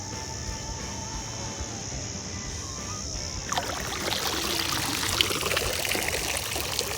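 Water trickling and splashing as a live bait trap is lifted out of the Wooli River, a quiet steady background giving way midway to louder dribbling and pouring that runs to the end.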